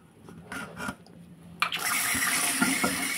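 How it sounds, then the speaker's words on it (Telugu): Moringa leaves are rinsed under a running tap: a few soft handling knocks, then a steady, close rush of water that fills the rest of the clip. "వాష్ చేసేసుకొని పక్కన పెట్టుకుందాం"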